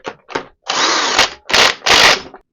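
Power tool being run in short bursts during a Tomos A3k moped restoration, two quick blips followed by longer loud whirring runs with abrupt starts and stops, close and harsh, with no one talking.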